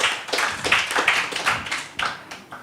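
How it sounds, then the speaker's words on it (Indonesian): A small group clapping, uneven hand claps coming in loose bursts, fairly close and moderately loud, with no voices. "Tepuk tangan untuk mereka berempat"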